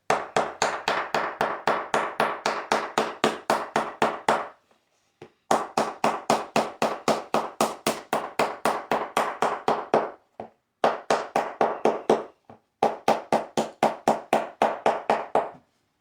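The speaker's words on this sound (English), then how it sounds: "you take your hammer and you hammer it" Rapid, rhythmic hammer taps on a rubber climbing-shoe sole in quick bursts with short pauses between, a dull repeated knocking close up.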